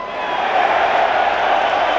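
UFC arena crowd cheering, a dense, steady roar of many voices that swells slightly and holds at high volume for about two seconds.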